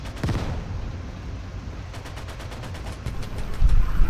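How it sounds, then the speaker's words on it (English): Italian rifle fire in a WWII online shooter, a series of quick, faint cracks and a distant burst of battle noise over a steady background rumble. "There's an Italian rifle."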